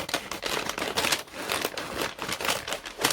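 Crinkling and rustling of packaging being pulled open, repeated bursts of crackly paper and plastic handling close up, no talking.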